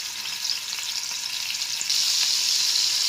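Steady, close sizzle of mutton keema sticks shallow-frying in hot oil on low heat, a continuous hiss that swells slightly louder partway through, with no talking.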